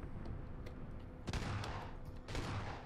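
Gunfire in the PUBG battle royale game, with a faint distant volley of shots and then sharper, nearer bursts of rapid fire, quiet overall.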